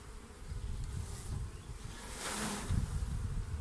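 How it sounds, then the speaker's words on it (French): Honeybees shaken off a hive frame into a hive roof, a dense steady buzzing swarm close by with a brief rushing swell of disturbed insects partway through, and no talking. "je secoue mon cadre avec mes abeilles dans le toit"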